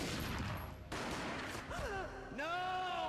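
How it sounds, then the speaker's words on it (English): A gunshot in the video game Max Payne, booming sharply at the start amid other game noise, followed by a voice. "A gunshot boomed and she fell down in slow motion."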